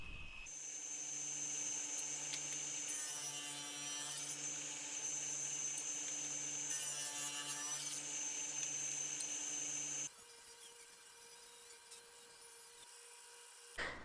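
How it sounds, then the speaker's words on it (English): A table saw rips wood stock into 8mm strips for tenon stock, a steady loud whine with two brief rasping bursts of blade cutting, then a quieter spin-down near the end. "I'm just going to take my caliper over to my table saw, set my fence, and start cutting all my stock into 8mm wide strips"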